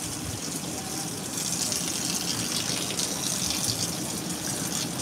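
Water gushes steadily into a secondhand washing machine filling for the rinse, a continuous rushing flow heard close and loud with no voices.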